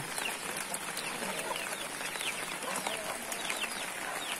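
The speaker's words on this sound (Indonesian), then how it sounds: "Ayamnya mulai masuk ke kandangnya, teman-teman." Village chickens cluck and chatter in a busy group as they go into their coop, overlapping soft calls against a steady background hiss, no talking.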